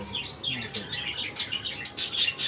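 Hagoromo king budgies in a breeding setup chirp and warble in quick overlapping bursts nearby, with a few sharper, louder tweets at the end.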